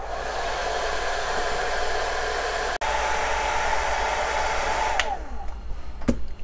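A hair dryer blows steadily and loudly while heating a pistol slide, a broadband whoosh with one momentary cut-out partway through and a couple of short knocks near the end.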